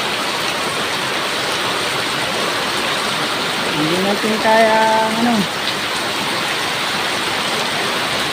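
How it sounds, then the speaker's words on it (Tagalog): Heavy rain falls in a steady, dense hiss that fills the whole stretch, with a person speaking briefly over it midway. "Ayan, grabe ulan mga katuda."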